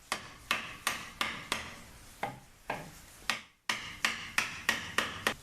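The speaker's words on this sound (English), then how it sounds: "So you take your claw hammer and then just gently start to work the wood." A claw hammer striking and working pallet boards loose, a series of sharp, evenly spaced wooden knocks close to the listener, pausing briefly midway before the rhythmic blows resume, with no talking.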